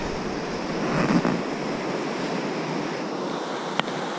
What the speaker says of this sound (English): Oh wow, it is a river. Glacial melt too.